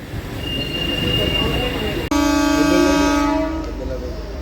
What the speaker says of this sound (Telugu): గుంతకల్లు డోన్ డెమో ట్రైన్ వెళ్ళిపోతుంది